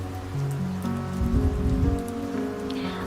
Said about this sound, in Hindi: आपको एक दिव्य बारिश का अनुभव होगा